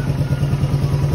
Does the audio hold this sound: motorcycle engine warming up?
yes